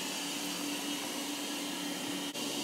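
An Ecovacs Deebot T8+ robot vacuum runs on high suction with a loud, steady whirring hum, close by and unbroken apart from a brief dip near the end, with no talking.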